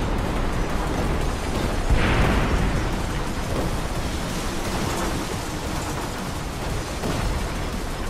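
A series of loud, rumbling explosions in the Scream Ride video game blend into one dense, roaring wash. A stronger burst comes near the start and is followed by continuous crackling debris noise.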